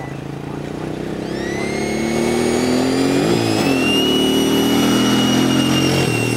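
A 90mm Exceed F18 RC electric ducted fan jet spools up with a loud, rising turbine-like whine and a steady roaring rush of air, nearby and continuous.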